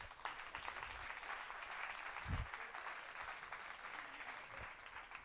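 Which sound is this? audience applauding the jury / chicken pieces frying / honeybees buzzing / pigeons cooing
audience applauding the jury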